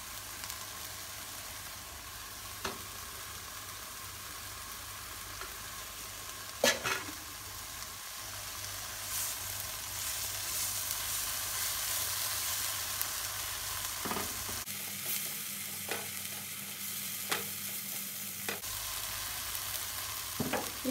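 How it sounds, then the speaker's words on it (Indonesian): Spice paste stir-fries in oil with a soft, continuous sizzle, broken by occasional scrapes of a utensil against the pan. "Ditumis sampai bumbunya matang."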